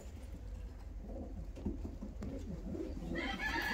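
Fancy show pigeons, young birds with yellow caps and basket tails, cooing and murmuring softly and steadily close by, with a faint brighter chirping rising near the end.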